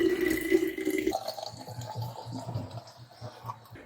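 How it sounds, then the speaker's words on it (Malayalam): Homemade grape juice syrup is poured into a storage bottle: a rising tonal gurgle as the bottle fills for about a second, then a softer trickling pour, close and fairly quiet. "ഇനി നമുക്കത് ഫ്രിഡ്ജിലേക്ക് സൂക്ഷിക്കാനായിട്ട് ഒരു കുപ്പിയിലേക്ക് ഒഴിച്ചു വെക്കുകയാണ് വേണ്ടത്"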